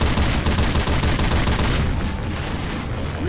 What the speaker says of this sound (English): this is like an extreme caliber turret